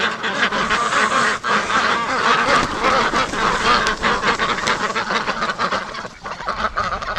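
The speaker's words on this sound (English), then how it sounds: "So this looks like the only Muscovy that's outside here right now." Muscovy ducks at a breeding pen let out rough, raspy quacking calls in quick irregular bursts, close by and fairly loud, with a little shuffling between calls.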